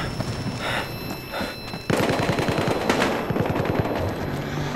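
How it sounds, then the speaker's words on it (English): Vehicle-mounted heavy machine gun on an SUV in Battlefield Hardline fires in rapid sustained bursts, loud and close, growing denser after a short lull amid other gunfire. "Machine gun mounted on an SUV!"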